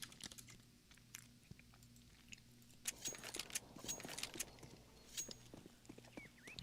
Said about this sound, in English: Let's turn the volume up so you guys just don't have to hear me chewing